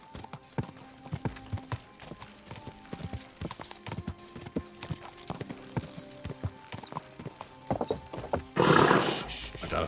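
A horse's hooves clip-clop at a walking pace in the medieval video game Kingdom Come: Deliverance 2, a steady run of close, distinct knocks. A brief neigh and a rustling burst come near the end.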